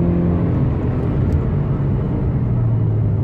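On the Nürburgring straight a prototype race car roars steadily from close range, a loud, dense engine rumble that holds through the whole moment.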